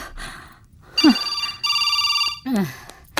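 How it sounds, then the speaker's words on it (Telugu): In a Telugu film scene a telephone rings in repeated electronic bursts, close and clear, broken up by a woman's gasps and strained breaths. "పార్వతి, ఫోన్ వచ్చిందని నువ్వు లేచి రావాలా?"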